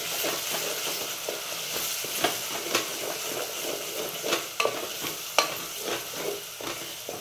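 Curry leaves and spices sauté in a pan for yelvanyachi amti under a continuous sizzle, punctuated by repeated clear clinks and scrapes of a spoon stirring against the pan.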